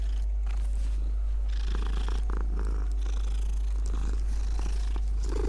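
A cat purrs steadily and continuously, close up, a soft rumbling drone with no other sounds.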